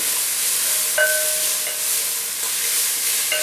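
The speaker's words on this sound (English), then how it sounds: "And then I'm going to be adding in some capers, green capers." Green capers dropped into a hot pan of simmering vegan black bean soup, giving a steady loud sizzle and hiss with faint stirring clinks, no voices.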